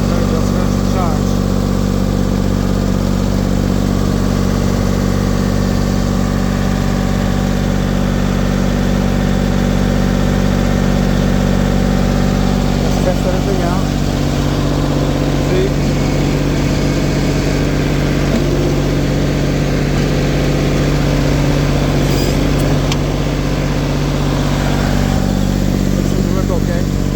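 A LeeBoy asphalt paver's engine runs at a steady idle, a constant low, droning hum that holds the same pitch from start to finish with no pauses.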